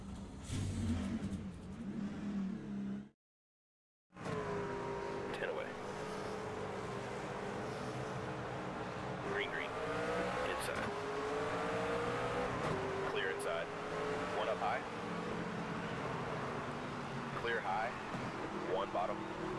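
Race car engine in the NASCAR 25 video game revving hard and sustained, with rising and falling pitch sweeps over a loud, dense drone, briefly cutting to silence early on, while a voice talks over it.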